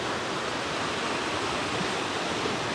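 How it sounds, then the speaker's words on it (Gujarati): A village river in flood after very heavy rain rushes past as a loud, steady, broadband roar of churning water, continuous and close, with no voices. "ને આ અમારા ગામની નદી આવી"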